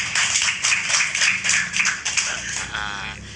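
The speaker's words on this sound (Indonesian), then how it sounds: "Masya Allah, tepuk tangan dulu dong." Audience applause breaks out at a talk show with Gontor santri, a dense, steady patter of many hands clapping close by, swelling and easing over a few seconds with no talk over it.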